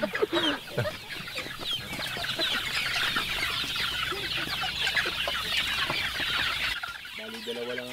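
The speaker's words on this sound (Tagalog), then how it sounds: "Tignan nyo po yung mga sisiw ko kung ano yung sitwasyon nila sa loob." Chicks and young chickens in their enclosure make a dense, continuous chorus of high peeping and clucking, close by, with a person speaking briefly.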